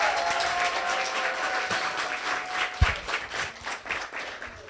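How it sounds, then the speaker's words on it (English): A crowd at a Black Excellence Tour show in San Francisco claps in sustained applause, loud at first and gradually thinning into scattered claps, with a brief thump partway through. "Can we give them a big round of applause?"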